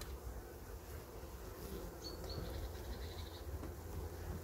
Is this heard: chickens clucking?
no